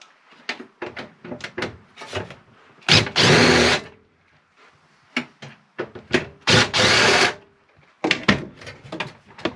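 A power drill drives out the mounting screws of a Sharp RV microwave, with two sustained bursts of close, loud whirring between rattling handling and scraping knocks.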